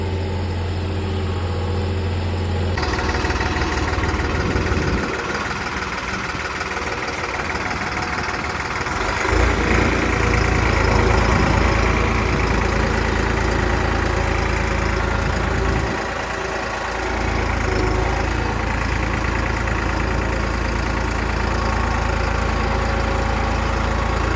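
A Holland 5620 tractor engine running a super seeder during field sowing, a loud steady low drone that shifts in load and tone partway through, heard close and continuous with faint voices.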